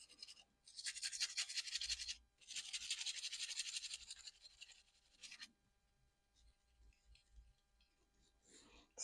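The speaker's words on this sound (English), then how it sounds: "Just give it a good little spray, good turn, get a toothbrush, just try and get in there." A toothbrush scrubs the sprayed contrast wheel of an original Nintendo Game Boy under restoration, giving close, dry bristly rasping in two sustained bursts followed by quieter intermittent brushing.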